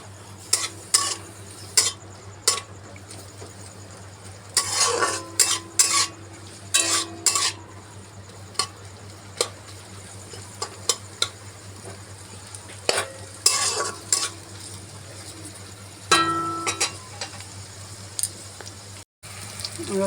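Onion, green chilli and black cumin fry in hot oil while a spoon stirs and knocks against the pan in irregular bursts over a continuous sizzle, loud scrapes clustering in a few stretches; no voices.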